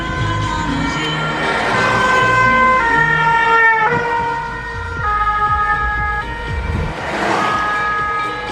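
Fire engine sirens on a flooded road in Nîmes, loud wailing two-tone sirens stepping up and down in pitch, close and continuous over heavy rumbling traffic noise, with no talk.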